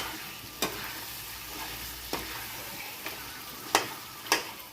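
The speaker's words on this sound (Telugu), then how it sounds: "ఇదిగోండి ఇలా ఇలా గ్యాసు సిమ్లో కొంచెం సిమ్లో పెట్టుకొని ఈ విధంగా చక్కగా వేయించుకోండి" Meat frying in a pan over a low gas flame for a nalla vepudu, a quiet steady sizzle with scattered clacking stirs of a ladle at irregular intervals.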